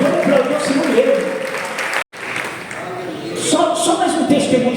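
A church congregation applauds the Lord in sustained clapping mixed with voices, which breaks off briefly partway through and then resumes just as full.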